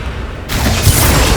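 The Bombarda explosion spell in the video game Hogwarts Legacy goes off as a sudden loud broadband blast about halfway through, followed by a sustained rumbling roar.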